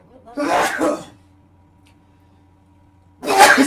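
A single loud sneeze breaks a quiet room, after which a voice briefly speaks.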